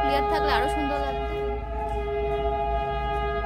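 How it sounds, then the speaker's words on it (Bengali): The Darjeeling toy train rolls past with a sustained, steady horn tone over a low rumbling rumble of wheels, loud and close throughout, with a brief higher warble early on. "টয় ট্রেন যাচ্ছে।"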